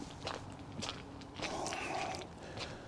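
Footsteps crunch over road salt on a cleared residential street after snow in Mississauga, Canada, a few gritty close steps with scraping grains, fairly faint and heard alone.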